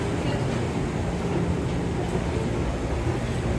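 A train rumbles steadily at the YVR line station in Vancouver, with a broad, continuous roar of wheels and carriages close by and no clear talking.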